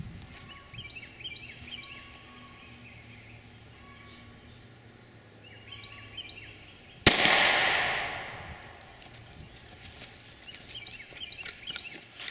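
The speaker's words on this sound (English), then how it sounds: "We just fired a Grizzly Extreme through 2 layers of drywall." A Glock pistol fires a single .45 ACP Grizzly Extreme 175 grain round through two layers of drywall. One sharp, loud shot cracks out about midway and fades over a second, with birds chirping outdoors before and after.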